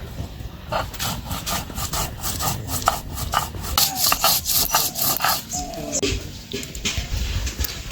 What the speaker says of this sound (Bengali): আর এদিকে ধনে জিরে আর কাঁচা লঙ্কা একসাথে বেটে নেব